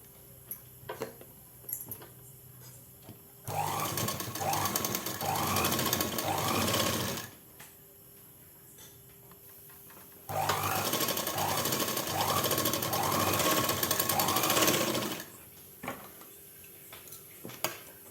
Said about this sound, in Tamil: இனி இதை திருப்பி அப்படியே இன்னொரு தையல் போட்டுக்கலாம்.